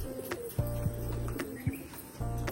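Pigeons kept by a fancier coo in a garden during light rain, a series of soft, close, repeated low coos in short bursts with brief pauses between them.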